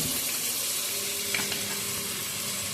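Coriander and mint leaves frying in a pan for homemade egg biryani, a steady soft sizzle with occasional faint stirring clicks, close and continuous.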